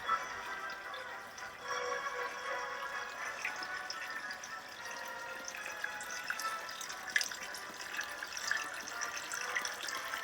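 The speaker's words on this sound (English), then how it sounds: "you are greeted by the sound of water from the bamboo spout." Water trickling from a bamboo spout in a Japanese garden, a steady, gentle splashing and gurgling that runs continuously at moderate level with no talking.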